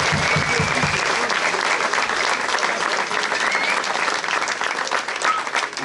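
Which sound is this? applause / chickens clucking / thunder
applause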